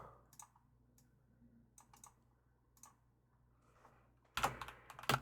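Scattered, faint keystrokes tap on a computer keyboard in a quiet room, arriving in short irregular clusters, followed near the end by a louder burst of rustling handling noise.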